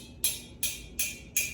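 A water-filled glass in a homemade water piano is struck four times at an even pace, each tap giving a bright, ringing tone that decays before the next, with no talking.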